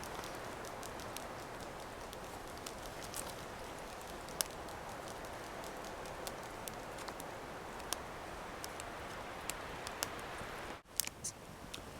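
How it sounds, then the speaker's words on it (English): Steady crackling sizzle of Spam frying over a campfire, with scattered sharp pops over a continuous hiss, close by. "You can hear it sizzling, so it should be pretty tasty."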